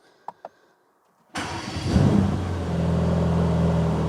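A brand-new Mercedes-AMG GT Black Series cold-starts after two faint clicks and a pause, with a sudden loud catch and brief flare that settles into a steady, rumbling idle.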